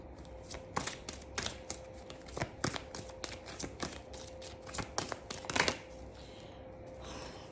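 Tarot cards being shuffled by hand in quick, irregular riffling bursts of soft snapping and flicking, close and fairly quiet, with a faint steady hum underneath and no talking.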